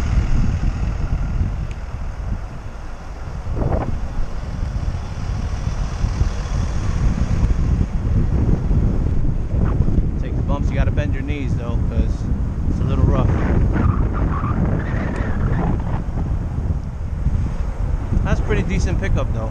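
Steady buffeting wind noise while riding a Xiaomi Mi 365 electric scooter outdoors, a constant rushing roar under someone talking throughout.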